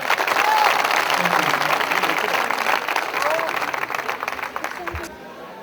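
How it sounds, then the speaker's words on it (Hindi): Dense, steady applause from a college audience at an IPS Group of Colleges intro party, welcoming the director; the clapping runs loud and continuous, then thins out near the end. "जोरदार तालियों से स्वागत कीजिए honourable director sir, IPS group of colleges, doctor Arun Kumar Tyagi sir का"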